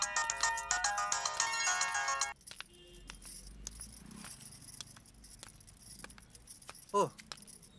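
An old-style mobile phone ringtone plays loudly for about two seconds as a repeating electronic melody, then cuts off, leaving room noise and a brief voice near the end.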